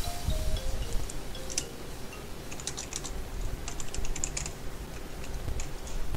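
Computer keyboard typing in bursts, a rapid run of clicks followed by scattered keystrokes over a steady low hum, close and alone without talk.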